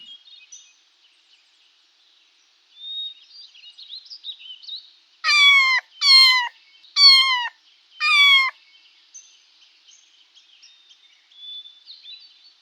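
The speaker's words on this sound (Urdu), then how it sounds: "ٹیچر اب اپنی کلاس میں سب سے پیچھے بیٹھے ہوئے اسٹوڈنٹ سے کہیں کہ وہ بلی کی آواز پر یس کہیں" A cat meows four times in a steady, evenly spaced series, each call loud, close and clear, with only faint background sounds before and after.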